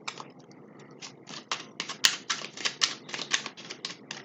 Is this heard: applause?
no